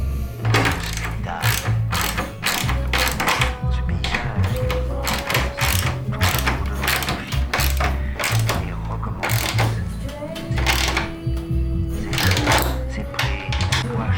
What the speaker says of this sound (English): we're going to tighten these bolts and then see if it stands up